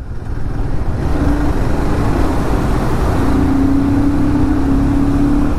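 A motorbike riding through a mountain tunnel on the road from Jammu and Kashmir toward Ladakh, its engine and wind a loud, dense, booming roar that fills the space steadily, with a faint tonal whine rising partway through.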